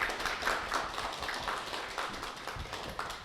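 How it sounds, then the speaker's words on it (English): Audience applause at a public talk, a dense, even patter of many hands clapping at moderate distance, steady for a few seconds with no voices over it. "How about a round of applause for yourselves as Henry Streeters?"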